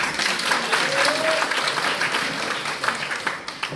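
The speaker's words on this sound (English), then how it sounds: "Let us give him a round of applause." Audience applause at a political party launch rally in Nelspruit, a thick continuous clapping from a crowd that stays fairly loud before thinning slightly toward the end.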